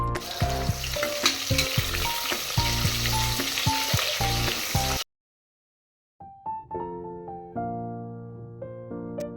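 Thick-cut onion slices sauté with whole spices in a pan for a vegetable pulao, a loud steady sizzle with stirring scrapes for about five seconds, then a sudden silence before fainter cooking sounds return, overlaid by background music.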